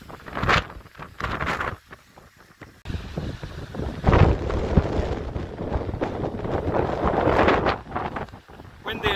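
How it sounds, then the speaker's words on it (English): Strong gusts batter the microphone on a wet hill walk in Wales, loud roaring bursts swelling and dropping in waves, with brief lulls between them. "Windy enough for you."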